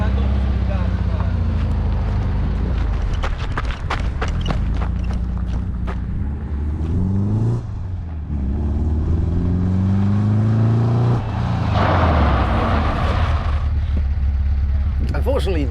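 Old Volkswagen Kombi van braking hard without ABS during a brake test, engine noise rising and falling with tonal sweeps and clattering bursts, loud and close.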